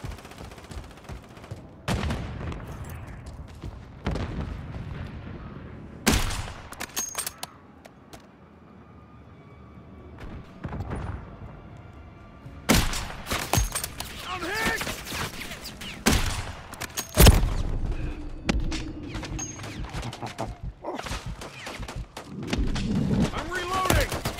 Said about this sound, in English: Four shots. Five shots.